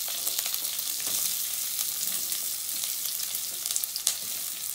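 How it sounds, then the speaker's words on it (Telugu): Thinly sliced onions frying with turmeric in a pan for masala dosa, giving a continuous crackling sizzle with occasional louder pops. "ఇప్పుడు సన్నగా పొడవుగా తరిగిన ఉల్లిపాయలు వేసుకుందాం."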